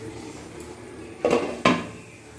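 Metal lid set down on a cooking pan on a gas stove after the flame is switched off, two sharp clanks about half a second apart over quiet kitchen background.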